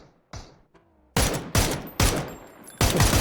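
Rifle fire in the PUBG battle royale game: a faint pop or two, then four loud, sharp gunshots in an uneven burst, close and alone with no talk.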